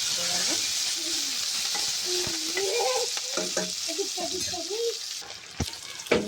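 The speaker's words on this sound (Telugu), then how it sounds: "కొన్ని జీలకర్ర, కొన్ని ఆవాలు వేసానండి. ఇందులోకి పచ్చిమిర్చి, కరివేపాకు, ఉల్లిగడ్డ, ఒక టమాటో వేసుకొని కలుపుకోవాలి." Cumin, mustard seeds, green chillies, curry leaves, onion and tomato frying in a pan for a mushroom masala curry, with a steady close sizzle and the occasional stirring scrape.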